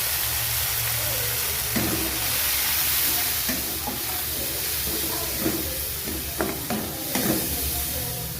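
Spice masala of turmeric and Kashmiri chilli powder with a splash of water and lightly fried onion sizzles and hisses in a pan, with scraping stirs and clinks over the steady frying.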